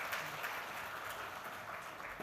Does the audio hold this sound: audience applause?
yes